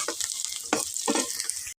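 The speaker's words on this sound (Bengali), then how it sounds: "দেখো এই যে আমার পেঁয়াজ আর রসুন ভাজা হয়ে গেছে" Onion and garlic fry in a pan with a loud, close sizzle, broken by bursts of stirring that rise and fall before cutting off abruptly.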